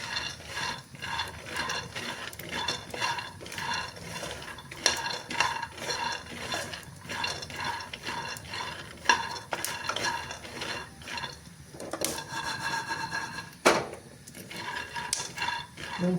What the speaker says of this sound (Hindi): मूंगफली भी हमारी भुनने लगी है और चटकने की आवाज़ आने लगी है